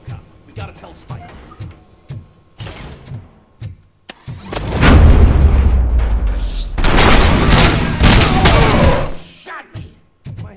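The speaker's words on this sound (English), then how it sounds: "Am I hearing gunshots?" Rapid gunfire and booming impacts in the Robocop Rogue City video game, with loud sustained bursts of shooting and explosions, and people talking between the volleys.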